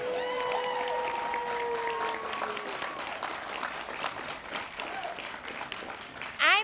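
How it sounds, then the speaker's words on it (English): A university commencement crowd applauds for students from the Providence campus, with continuous crowd clapping and cheering whistles against faint murmuring, and a louder burst at the very end. "clap for me."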